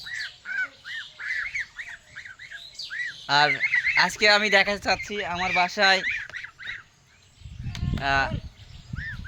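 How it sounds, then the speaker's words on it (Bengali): Three domestic ducks kept at a home quack in a quick repeated series, then someone talks over them, and more quacks break in near the end. "হাঁস রয়েছে আমার, 3টা হাঁস রয়েছে"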